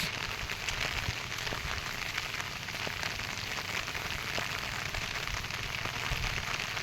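Rain falls steadily over flooded rice fields during sowing, a dense, even hiss of drops with scattered faint patters, continuous throughout and no voices.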